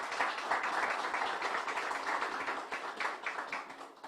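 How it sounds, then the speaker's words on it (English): An audience at Southern University gives the Governor a round of applause. Dense, even clapping from many hands is heard at a moderate distance and continues steadily for about four seconds without speech. "Let's give him another round of applause"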